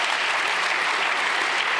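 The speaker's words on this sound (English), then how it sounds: "let's give him a round of applause" A conference audience at a PyCon and PyData Berlin lightning-talk session gives a speaker a brief, lively round of applause, with dense, even clapping throughout.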